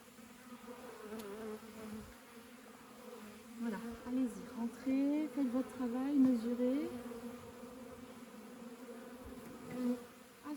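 Honeybees hum steadily at a beehive entrance, the buzzing rising and wavering as they crowd in, with a person talking softly over them.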